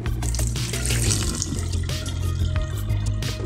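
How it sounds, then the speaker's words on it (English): Dirty wastewater from a yeedi self-cleaning robot vacuum and mop base bin pours out in a steady, splashing stream into a sink, close and continuous throughout. "we just want to empty our wastewater bin by opening the clasp, opening the top, and pouring it out"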